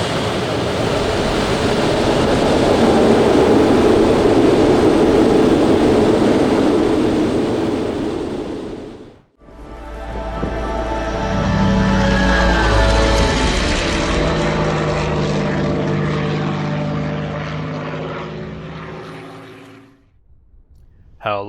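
A Concorde jet taking off in a flight simulator game, with a loud, steady roar of jet engines that cuts briefly and then returns with rumbling and whining tones, fading toward the end.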